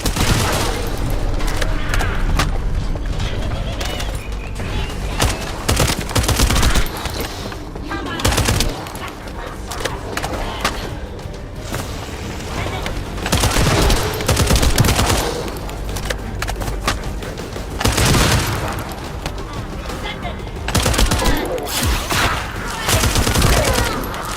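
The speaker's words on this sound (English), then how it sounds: "That stopped the gunfire." Sustained rapid gunfire with repeated bursts and booms in The First Descendant, loud and dense throughout, with voices talking underneath.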